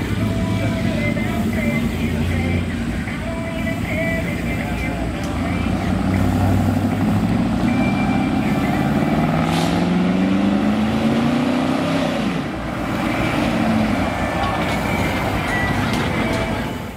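A truck-pull truck engine roars steadily nearby as it runs down the pulling track, its pitch rising and falling, with a continuous rumbling, clattering background.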